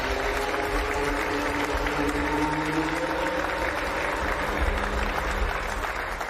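An audience applauds the reveal of the Aston Martin 2022 Formula 1 car, with steady, dense clapping that holds throughout with faint crowd noise.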